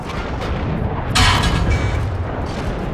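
A tank cannon fires in World of Tanks, a single loud booming shot with a short rumbling tail over continuous engine and battle noise.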